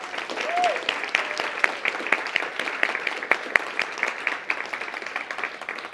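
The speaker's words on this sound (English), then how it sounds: "let's give another round of applause to all our speakers that have come here" An audience applauds the speakers at a gratitude-themed leadership event, dense clapping with sharp individual claps standing out, holding steady throughout while a voice briefly sounds over it.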